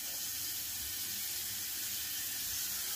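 Running tap water pours steadily into a sink as shaving gear is rinsed during a wet shave, a continuous close hiss of flowing water with no voices.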